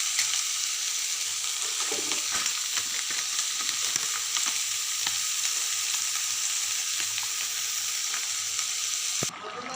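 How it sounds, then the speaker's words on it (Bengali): Potato and cauliflower curry fries in hot oil in a wok with a loud, continuous sizzle, close up and unbroken for nearly ten seconds before it abruptly drops off. "এখন তেলে ভাজা হলে আলু কপি তরকারি করব"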